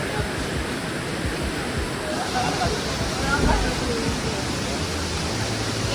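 Big ocean waves crash and roar at Suluban Beach in Bali, a dense, continuous wash of surf noise that stays loud and unbroken, with a slightly heavier surge midway.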